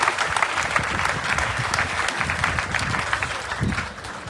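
A church congregation applauds at a memorial service for an apostle before his burial, with a dense, sustained clapping that rolls on loudly and evenly, dipping slightly near the end.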